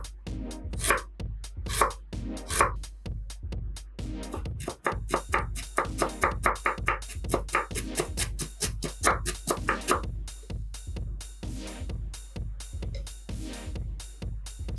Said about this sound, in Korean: 그리고 생강 20g을 얇게 채 썰어줍니다.